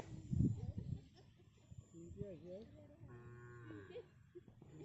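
A cow moos in a rural Assamese paddy field at harvest time, giving several drawn-out, wavering calls close by while someone talks to it.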